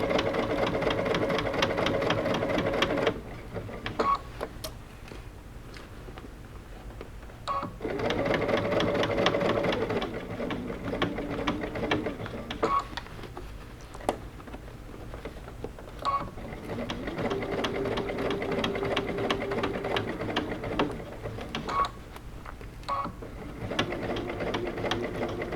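A sewing machine chatters close and steadily while stitching a fabric bucket hat, slowing briefly and pausing a few times for a back stitch before running on, with no voices.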